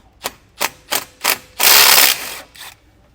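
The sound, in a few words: 9/16 socket wrench removing nuts from disc brake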